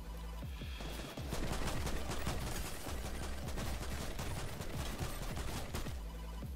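Sustained gunfire in Fortnite, fast overlapping bullet shots in a continuous, loud burst lasting several seconds, with no talking over it.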